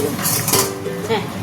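A metal lid lifted off a cooking pot of fish curry with taro, brief clanks and a ringing clink, close, under a voice talking.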